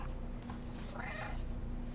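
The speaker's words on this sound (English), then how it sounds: "I'm purring, too." In the video game Stray, the cat purrs as a soft, steady, continuous rumble at low volume, with no talking.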